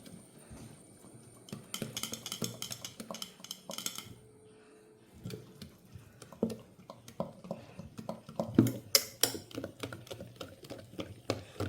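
Idli batter beaten by hand in a vessel: brisk, irregular slapping and clacking strokes in quick bursts, fairly close and quiet, with a short pause partway through and no talk.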